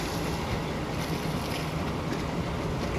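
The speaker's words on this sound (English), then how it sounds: "Waves are coming in pretty rough." Choppy waves rolling in at the shore of a protected channel, with wind buffeting steadily throughout, a constant loud rush of surf and gusts with no voices.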